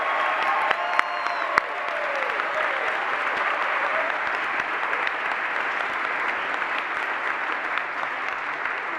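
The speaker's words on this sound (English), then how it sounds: "Can we give them a round of applause, please?" Sustained audience applause at a high school commencement ceremony in a hall, a dense, steady clapping crowd lasting throughout with a few sharper claps near the start.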